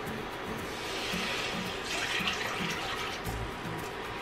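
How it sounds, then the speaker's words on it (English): Two cups of water pouring into a heavy saucepan for pickled cabbage, a steady gushing splash lasting a few seconds, close and fairly loud with no talking. "And I'm going to pour in 2 cups of water."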